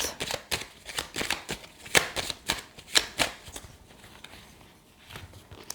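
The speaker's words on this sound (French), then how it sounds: "Je vais recouvrir certaines cartes." Tarot cards are shuffled, slid and laid over one another on a table, a rapid run of crisp close slaps and swishes that thins out toward the end, with no voices.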